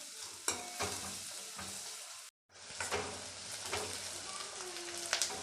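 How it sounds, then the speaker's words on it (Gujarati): Onions sizzle steadily in a hot pan while cooking for masala dosa, with a constant crackling hiss, brief scraping stirs and a short silent gap midway, close and moderately quiet. "ડુંગળીને થોડી વાર ચડવા દેશું."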